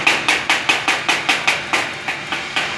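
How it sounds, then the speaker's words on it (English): A chipping hammer taps slag off a fresh stick weld in a quick, even series of about a dozen sharp metallic clinks, loud and close. "Just hold it down and just tap on it lightly and just chip away at the slag"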